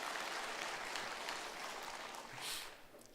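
Applause from a church congregation, a steady wash of clapping heard from a distance, faint and even, swelling slightly near the end.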